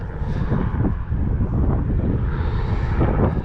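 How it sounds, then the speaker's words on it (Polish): Airplanes passing overhead across an open field on a sunny day, heard as a steady, broad engine roar mixed with strong wind buffeting the microphone, continuous and fairly loud throughout. "W tle słychać latające samoloty co i raz"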